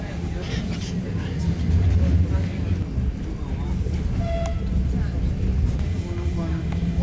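Carriages of the Flåm mountain railway rumble steadily on a steep mountain line, a loud continuous low rolling drone heard from inside the train, while a voice talks over it.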